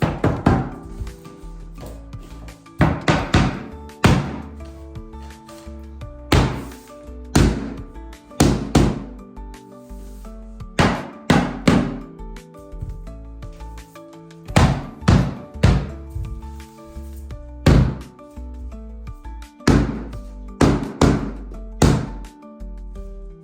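Laminate flooring planks being knocked into place make a long run of hard, hollow thunks, with taps coming in quick clusters of two or three and short pauses between, close and loud.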